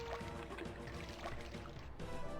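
Water pours steadily in the 1992 video game Alone in the Dark, a continuous splashing flow with a faint tonal hum running underneath.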